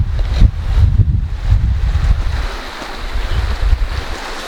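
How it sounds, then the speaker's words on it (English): Steady rushing water of a river rumbles close by, with gusts of wind buffeting the microphone. "You got a river down here."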